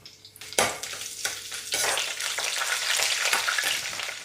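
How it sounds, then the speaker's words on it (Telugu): Urad dal, mustard seeds, cumin, broken dried red chili and crushed garlic cloves sizzle loudly in hot oil for a tempering, with a sharp burst as the ingredients hit the pan and then a continuous crackling fry with scattered pops. "పోపు వేగి మంచి ఫ్లేవర్ వస్తుందండి."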